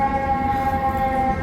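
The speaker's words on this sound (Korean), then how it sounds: "시끄럽게 사이렌 소리가 굉장히 자주 들리거든요." An emergency siren on Chicago's Michigan Avenue holds a loud, steady, piercing tone for the whole moment, with city rumble underneath and no voices.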